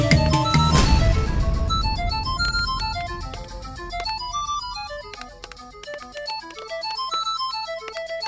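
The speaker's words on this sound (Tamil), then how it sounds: "பாஸ் தான் ஃபோன் பண்றாரு." A mobile phone rings with a bright electronic melody of repeating tones that plays loudly and steadily from start to finish, with no talking over it, in a domestic scene from a Tamil TV serial.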